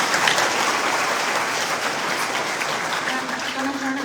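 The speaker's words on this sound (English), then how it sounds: "So, round of applause for our panel" Steady, dense applause from a convention breakout-session audience thanking a panel, filling the room evenly throughout with a faint tone rising near the end.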